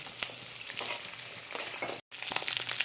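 Shrimp fry in hot oil with a close, steady sizzle and scattered crackles, some soft stirring scrapes mixed in, with one brief dropout near the end and no voices.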